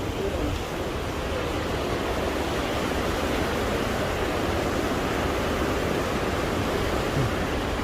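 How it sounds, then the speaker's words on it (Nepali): Phutphute waterfall, 31 to 33 metres high, on a trekking route in Nepal, gives a steady, dense roar of falling water that holds unchanged throughout. "यो 31 से 33 मिटर हाइटमा रहेको फुटफुटे झरना अवलोकन गरेर हामी अगाडि लाग्दैछौँ।"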